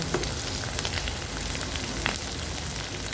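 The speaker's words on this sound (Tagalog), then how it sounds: "tuyo ang iluluto kong ulam" Dried fish (tuyo) frying in hot oil, a steady dense sizzle with scattered pops and crackles, close and continuous with no talking.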